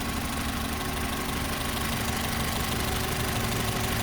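A Renault Twingo Mk1 engine, running very hot with a possible thermostat fault, idles in a steady low rumble with a faint mechanical tick. Any occasional misfire is hard to pick out, and there is no talk.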